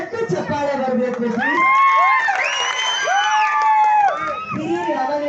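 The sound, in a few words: crowd applause and cheering at a campaign rally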